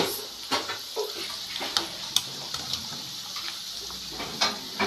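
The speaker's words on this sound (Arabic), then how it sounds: "هنبتدي بقى نطلعها نصفيها من الزيت كويس" Fried food lifted out of hot oil and drained, giving a soft continuous sizzle with faint bubbling, light splashes and a few sharp clinks of a utensil, close by with no talk.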